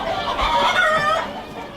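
Farm chickens raised for eggs cluck and crow together in a loud, steady flock chorus nearby, with overlapping calls throughout.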